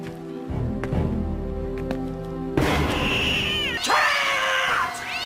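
A cat's sudden screeching yowl used as a jump scare in the Goosebumps TV show, cutting in loud over quiet music and swelling into a long harsh caterwaul, with no speech.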